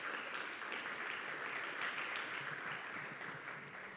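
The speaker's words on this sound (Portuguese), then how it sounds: "Uma salva de palmas para a tia Sara" A church congregation applauds after a woman's Bible story, giving a continuous, even round of clapping at a faint, distant level that tails off slightly at the end.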